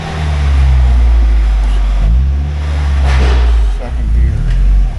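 A 2002 Mazda Miata engine idles and revs loudly up close, its steady low drone rising and dipping as the transmission runs through its gears, with several distinct pitch shifts.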